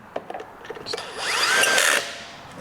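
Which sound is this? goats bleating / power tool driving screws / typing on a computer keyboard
power tool driving screws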